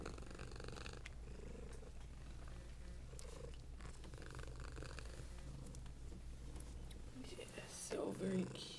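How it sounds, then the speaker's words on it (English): A sweet cat at a no-kill shelter in Atlanta purrs steadily and close up as a low continuous rumble, with someone speaking softly over it. "she's purring."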